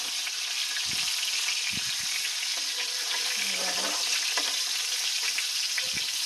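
Fish fries in hot oil in a pan with a loud, constant hiss and crackle, a few bumps and scrapes as it is turned over, heard close up.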